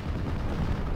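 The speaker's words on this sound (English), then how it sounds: "It's a 6-pound cannon" A British 6-pounder cannon in the World War II strategy game Steel Division: Normandy 44 fires in a dense, heavy rumbling blast that fills the whole moment with low, thunderous noise.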